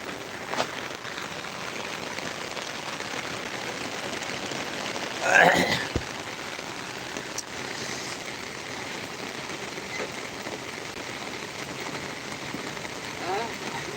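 Steady rain falls throughout near the Silonia river in Bangladesh, a dense even hiss with one louder rustle partway through.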